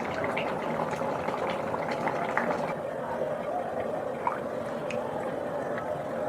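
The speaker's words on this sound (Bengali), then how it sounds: "এবার এটা কিছুক্ষণের জন্য ফুটবে।" A pot of biryani boils on the stove with a steady, even bubbling and gentle liquid gurgling throughout, no voices over it.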